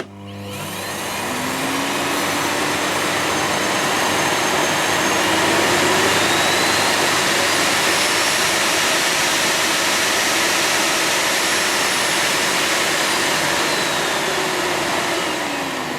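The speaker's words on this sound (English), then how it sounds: "you can just use it as a normal vacuum cleaner" A Miele S4812 hybrid vacuum cleaner runs on mains power, a steady loud whooshing roar with a high motor whine that starts within the first second and holds unbroken for the rest of the stretch, with no talking.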